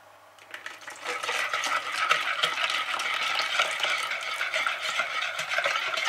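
A milk and butter mixture is whisked into beaten eggs for Belgian waffle batter, giving a continuous, brisk, close-up scraping and sloshing rhythm against the bowl, without any speech.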